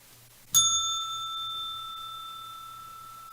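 A bright bell is struck once and rings clear and loud, its tone fading slowly over a quiet background.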